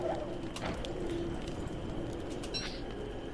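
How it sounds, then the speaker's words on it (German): Ambient bird calls in the survival video game Don't Starve Together, soft pigeon-like coos and a brief chirp over a low, steady background. "Ich versuche ein paar Vögel hier in der Umgebung zu kriegen."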